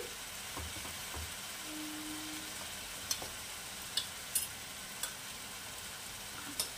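Fried fish pieces for a Bengali aar methi dish sizzling gently in oil over a low flame: a soft, even hiss with a few sharp light ticks and pops spaced out toward the end, quiet and without talk.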